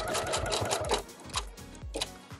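A sewing machine stitches through denim, giving a rapid, uneven run of mechanical needle thumps that stops and starts over a couple of seconds.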